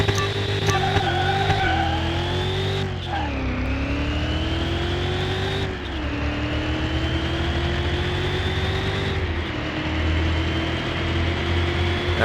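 A supercharged V8 car in a Car Mechanic Simulator 2021 drag race roars loudly and continuously, its pitch climbing through several gear changes across the run, with no voices.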